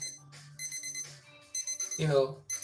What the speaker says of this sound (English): So my timer is beeping